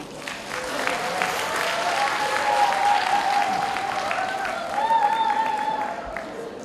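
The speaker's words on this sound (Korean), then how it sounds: "박수로 맞이해주십시오." Steady applause fills a hall as an audience welcomes a presidential candidate to the stage at a political talk event, sustained clapping with crowd murmur throughout.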